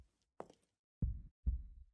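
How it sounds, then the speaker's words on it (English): A heartbeat sound effect from the visual novel Tsukihime Remake: a soft thump followed by two deep, heavy beats in a slow rhythm, close and muffled. "doesn't the sound of my heartbeat excite you?"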